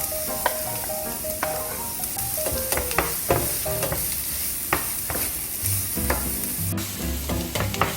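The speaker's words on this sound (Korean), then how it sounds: "고소한 마늘 향이 올라오면 다진 양파를 넣고 볶아주세요." Minced onion and garlic sizzle steadily in a hot pan for pineapple fried rice, with a spatula scraping and clacking against the pan in irregular strokes, close and continuous, without any voices.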